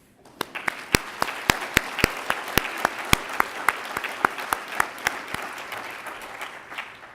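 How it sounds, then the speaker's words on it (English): An audience applauds at the 2014 Kansas State University Arts & Sciences Eisenhower Circle ceremony: a steady run of crisp, close individual claps that continues for several seconds and then thins out. "now we can thank everybody and applaud"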